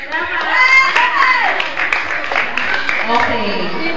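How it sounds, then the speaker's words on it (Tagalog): Family members at a 70th birthday celebration clapping their hands, a run of quick claps close by mixed with lively chatter and children's voices. "Palakpak ka naman!"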